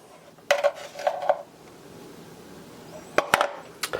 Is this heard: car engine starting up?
no